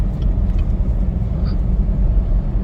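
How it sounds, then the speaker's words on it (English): A Chevrolet Camaro ZL1 drives on pure snow in a snowstorm, its engine giving a loud, steady low rumble from inside the car with no break. "We are basically driving on pure snow"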